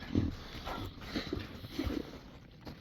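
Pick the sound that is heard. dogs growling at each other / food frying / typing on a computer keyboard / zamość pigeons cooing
dogs growling at each other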